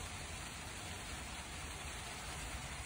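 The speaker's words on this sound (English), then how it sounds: "It's starting to rain." Light rain begins to fall outdoors during a sunshower, a steady, soft, even hiss with no voices.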